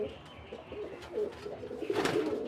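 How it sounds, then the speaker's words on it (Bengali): A blue pigeon kept on a rooftop coos softly in low, rolling calls, fairly quiet against faint background noise. "তো এই হচ্ছে সেই নীলে পায়রাটা, এই হলো সেই নীলে পায়রা"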